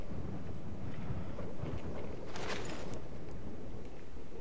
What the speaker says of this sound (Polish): O, słyszycie właśnie wiatr.